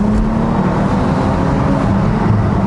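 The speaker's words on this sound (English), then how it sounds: "On downshift you get some fantastic noises, but it's not a particularly strong sound" Car engine heard from inside the cabin during a downshift, a loud steady droning hum with some road noise.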